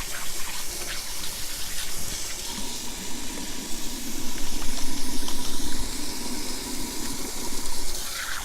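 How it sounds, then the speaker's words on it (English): Hands being washed under a running kitchen tap during turkey preparation; a loud, steady stream of water splashes continuously, with rubbing and splashing shifting slightly midway, and no talking. "Wash my hands again."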